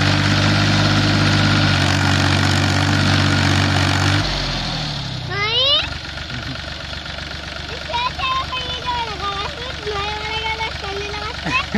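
A Force Abhiman 4x4 27 HP tractor engine runs loud and steady with a deep, even drone, then changes pitch, while people talk nearby.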